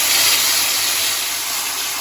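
Ginger, chili and tomato paste hit hot oil in a pan and throw off a bright, loud, steady hiss of sizzling that eases only slightly over two seconds.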